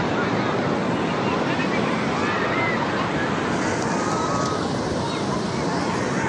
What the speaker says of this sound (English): But these are reasonably big.